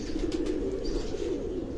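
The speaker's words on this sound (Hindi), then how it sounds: "तो यहाँ लातादाद कबूतर हैं।" Pigeons in caged rooftop lofts give a steady, continuous low cooing at close range, with no talk over it.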